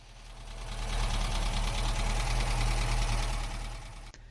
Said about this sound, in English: Engine's warming up nicely and the battery charged